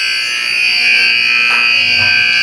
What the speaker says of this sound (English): As the buzzer goes and the first period has ended with us down by 2